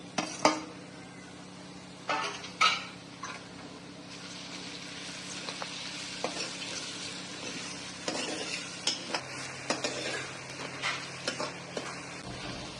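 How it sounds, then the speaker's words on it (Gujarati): Onion, green chilli pieces and tomato cooking in a pan for a moong curry, with soft continuous sizzling under repeated close stirring clinks and scrapes of a utensil against the pan. "2-3 લીલા મરચાંના ટુકડા અને ટામેટા. આ બધાને 5-1 મિનિટ આપણે ચડવા દઈશું."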